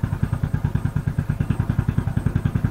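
A motorcycle engine runs steadily after a fuel pump check, its close, loud, rhythmic thumping pulses coming at an even pace with no talk over it.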